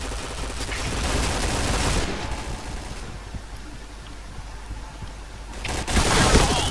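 Rapid gunfire in the Point Blank online shooter, a dense rattle of shots under steady game noise, loud and close, swelling again near the end.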